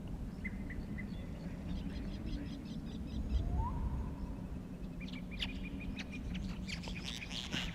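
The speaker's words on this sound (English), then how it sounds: "the yellow parrots. They always fly in the direction you need to go" Yellow parrots in a video game chirp in short, bright bursts, a sparse cluster early on and another late, over a low ambient game hum, fairly faint with no voices.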